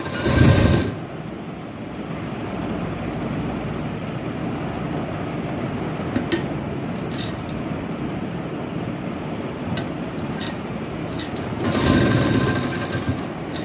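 A sewing machine stitching lace onto a pleated kameez-style shirt whirs steadily and close throughout, with louder bursts of fast stitching at the very start and again near the end, and no talking over it.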